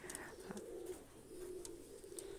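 Pakistani high-flying pigeon chicks coo faintly in soft, low, throaty murmurs, with a few light chirps and clicks over quiet background noise.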